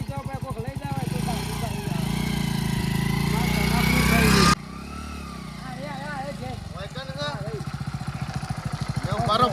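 A motorcycle engine runs close by with a steady pulsing idle, briefly revving higher before settling back, while people talk over it.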